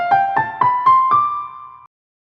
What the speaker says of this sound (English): The Dorian mode is when you treat the second note of the major scale sequence as the root note.